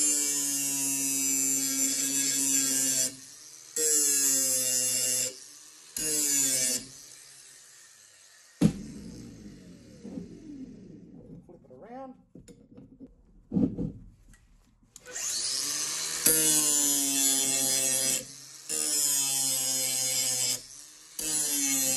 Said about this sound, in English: with our bottom piece of our bracket, we will be beveling it on both sides